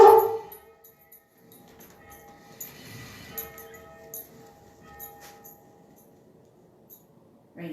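A dog gives a single sharp bark right at the start on Easter morning, followed by a quiet outdoor stretch with a faint lingering ringing tone.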